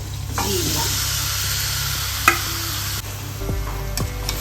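Chicken kosha cooking in a pan with fried potatoes and onions, giving a steady close sizzle and hiss throughout, broken by a few sharp utensil clinks and stirring scrapes.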